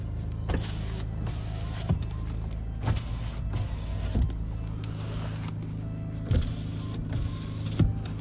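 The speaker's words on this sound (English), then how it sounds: "All the windows work normally." Electric windows on a 2016 Nissan Navara 2.3 dCi 190 Tekna automatic whir up and down in repeated short runs, each ending with a soft clunk, quiet and close inside the cab with no talking.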